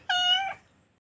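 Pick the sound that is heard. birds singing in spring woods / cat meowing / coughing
cat meowing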